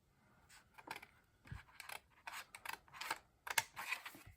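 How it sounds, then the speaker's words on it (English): Quiet, close snipping and rustling of scissors cutting paper near a comic book cover, a series of short irregular cuts with no talking. "So you're not going to inadvertently cut the cover with the scissors."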